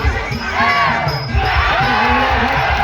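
Crowd at a bout between an elderly man in his seventies and a 40-year-old fighter roars and cheers, a dense loud mass of shouting voices sustained throughout, with an announcer's voice mixed in.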